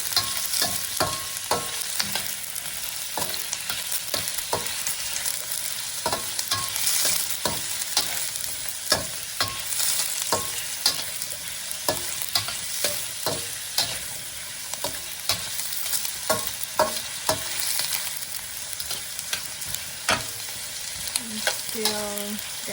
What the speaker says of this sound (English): Stir fry a little bit longer.